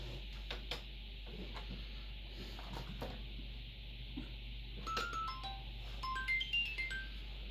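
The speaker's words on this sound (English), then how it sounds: "Very nice cheerful chime there. Actually is trying to tell us that something is wrong." A computer's cheerful warning chime plays as a short rising then falling run of bright tones, heard over a steady electrical hum and faint clicks.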